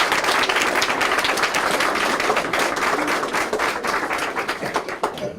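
An audience gives a round of applause for reading tutors at a Third Grade Reads kickoff event, a dense, steady clapping from a crowd that holds for several seconds and thins slightly toward the end.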